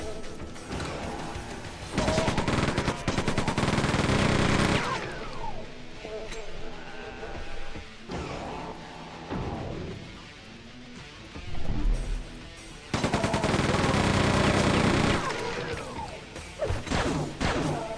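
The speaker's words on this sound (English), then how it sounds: "You really run through with that chain gun." Rapid chain gun fire in the video game Quake II, sustained loud bursts of rattling shots in several long stretches, mixed with crashing impacts and other game noise.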